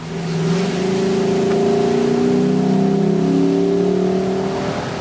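A Lexus LC 500 with a naturally aspirated V8 drives along a road at steady speed, its engine holding a loud, smooth droning note with slight rises in pitch as it pulls.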